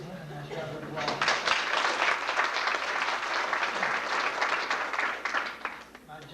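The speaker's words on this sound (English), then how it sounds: "please give him a nice round of applause." An audience at a 1991 high school graduation ceremony gives a round of applause for the school superintendent, with dense clapping that swells after a moment, holds steady and then tapers off near the end.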